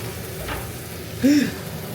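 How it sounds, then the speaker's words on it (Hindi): Minced meat (keema) frying in a pan gives a soft, steady sizzle close by, with a brief clink or stir sound about midway. "अभी तो मैं कीमा भून रही हूँ"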